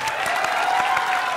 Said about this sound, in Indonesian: Lumayan ada 350 penonton yang menghadiri studio kita, bertepuk tangan semua.